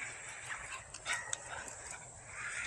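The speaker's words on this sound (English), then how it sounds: "That puppy wants to play with you." A neighbor's little puppy yips and whimpers faintly outdoors during a walk, giving short, thin cries over a low background hum.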